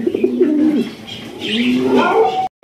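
Lahori pigeons coo loudly and close at a pigeon sale, with two rolling, throaty coo phrases separated by a short pause, ending in an abrupt cutoff.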